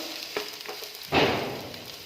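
Chopped capsicum hits a hot pan of frying potatoes for a Spanish omelette, giving a sudden loud burst of sizzling that then settles into a steady crackle, with light stirring scrapes just before.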